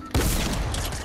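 A sudden burst of gunfire in GTA, a loud dense volley that starts abruptly and sustains for about a second.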